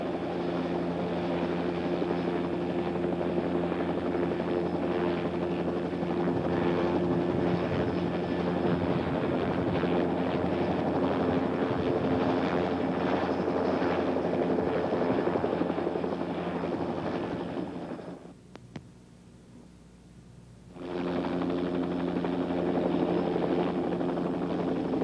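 A Bell OH-58 helicopter runs its engine and rotor close by, a loud, steady turbine whine and droning rotor hum that dips briefly near the end and then returns at full strength.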